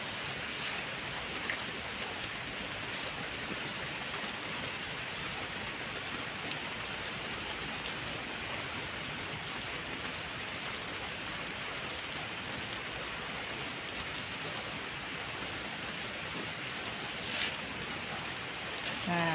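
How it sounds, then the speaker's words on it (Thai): Steady dense rain falling, a constant hiss and patter throughout with no breaks, close and fairly loud. "เห็นน้ำฝนก็อยากเล่นนะคะ"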